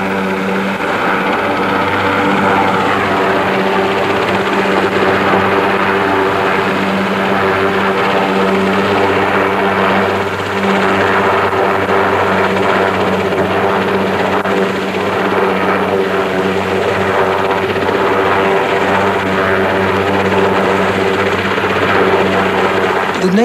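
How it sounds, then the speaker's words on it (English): A helicopter engine and rotor drone steadily and loudly throughout, with a constant low throb and no voices, as a 1982 dive expedition heads for the Seven Stones reef and the Torrey Canyon wreck. "our marker boy will guide us back to the helicopter"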